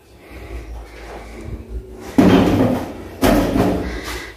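A door in a freshly renovated condo bathroom is shut twice with firm, loud thuds about a second apart, after faint shuffling and handling noises, with no talk.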